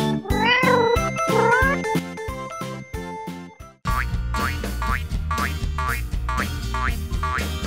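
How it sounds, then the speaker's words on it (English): A cat meows a few times in a drawn-out, wavering way over loud, bouncy children's music with sharp rhythmic hits and playful boing effects. "Cat."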